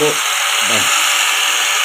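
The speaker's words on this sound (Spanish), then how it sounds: "Vamos a abrir con el taladro." An electric drill bores a hole for fitting a bank-type security lock, giving a steady, loud, continuous high whine, with a few brief words spoken at the start.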